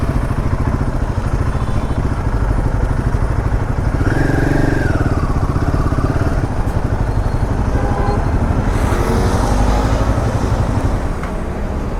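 A motorcycle engine runs steadily and loudly close by at an Ahmedabad showroom as the bike is parked, with traffic-like clatter and a brief higher whine partway through.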